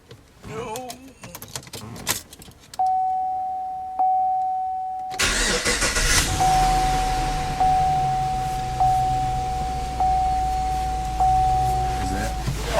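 Chevrolet Caprice PPV cranked and started during clockspring and horn work: a short cranking burst catches into a loud start, then settles to a steady idle with a chime tone repeating over it, brief talk beforehand.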